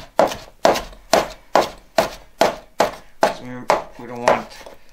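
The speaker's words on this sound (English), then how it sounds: "Flat leaf parsley, same thing, shred." Flat leaf parsley is rough-chopped with a knife on a board, about ten evenly spaced crisp thuds, close and distinct, with no talking.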